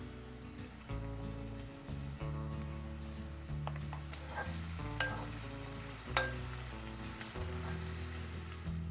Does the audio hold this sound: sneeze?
no